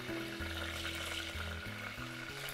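Mustard seeds and two dried red chillies sizzle and crackle steadily in hot oil, a close, continuous frying hiss with a low steady hum beneath it.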